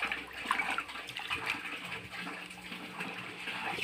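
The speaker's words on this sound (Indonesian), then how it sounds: "Habis itu dibuang airnya terus dibilas lor pakai air bersih" Water that soaked rice seeds for two days pours off in a continuous rushing, splashing stream, moderately close and unbroken by speech.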